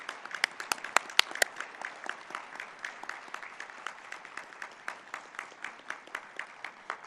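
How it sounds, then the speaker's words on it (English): An audience at a fentanyl summit applauds throughout, with steady, moderately loud hand claps at a quick, even rhythm and a few sharper claps standing out early on. "So I want to give a round of applause to Lisa."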